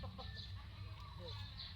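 A rooster clucks faintly in a rural yard of fighting cocks, with short clucks and a brief crow-like call heard softly in the distance over a low background hum.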